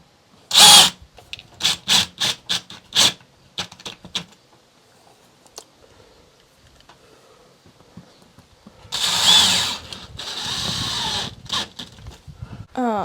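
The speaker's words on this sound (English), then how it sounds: "I got some screws. I'll screw that in." A power drill drives screws while a porch light fixture is mounted, giving a few short bursts near the start and a longer whir later on, with brief pauses between.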